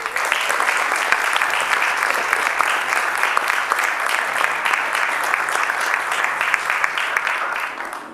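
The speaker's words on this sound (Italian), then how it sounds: "facendovi fare proprio un applauso da tutti i nostri ospiti" Studio guests on the Italian sports show La Domenica Sportiva give loud, sustained applause, a dense and even clatter of many hands filling the full stretch without a break.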